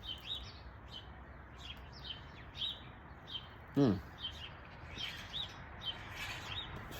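Wild birds chirp and tweet outdoors near a feeding spot, with repeated short calls scattered through a steady background hiss and one louder thump partway through.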